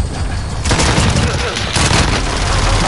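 Loud, close gunfire in the video game Call of Duty Modern Warfare, dense rapid bursts filling the whole clip with a brief dip in the middle, mixed with faint game noise.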